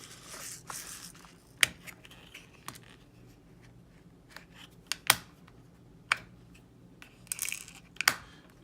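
Small Ziploc plastic bags are handled close up, giving scattered crinkles and several sharp crisp snaps and rustles at irregular intervals against a quiet background.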